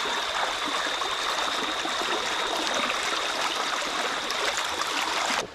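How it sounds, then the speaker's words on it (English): Vegan chickpea pasta boiling in a pot on the stove, giving a steady, unbroken bubbling hiss that stays close and even for several seconds before cutting off abruptly, with no talking. "I'm just right here on the sideline just watching this bubbling away."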